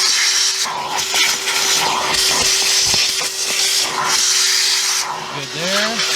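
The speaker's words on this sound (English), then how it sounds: "We'll try to vacuum up." A Ryobi One+ cordless vacuum runs steadily inside a car while it picks up rocks, giving a constant close whine and hiss with scattered clicks and rattles of stones being sucked in.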